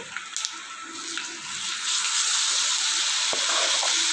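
Tempering of spices frying in oil in a pan for gongura peanut chutney, with a few clinks at first and then a dense sizzle that grows louder and holds steady.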